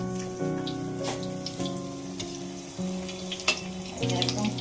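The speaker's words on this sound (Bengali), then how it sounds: "এই যে ভাজা হচ্ছে কুমড়া ফুলের বড়া" Pumpkin flower fritters frying in oil with a steady bubbling crackle and occasional spatula taps, under a low tonal hum.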